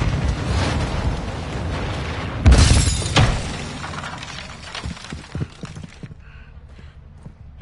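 A detonated bomb explodes in Borderlands 3 with a loud shattering blast, followed by a second crack and rumbling debris. The sound then fades into quieter scattered thumps and near silence.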